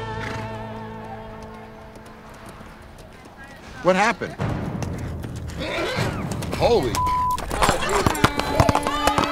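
Horse hooves clop inside a bar, heard as a burst of close, irregular thuds midway, with loud voices and bar commotion throughout.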